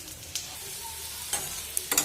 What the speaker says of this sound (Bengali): বড়াগুলো আমি মিডিয়াম টু লো ফ্লেমে ভেজেছি